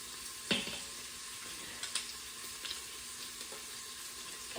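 Garlic and onions sizzle steadily in a Pampered Chef Quick Cooker, a soft continuous fry with a few brief clicks and stirring scrapes, no talking.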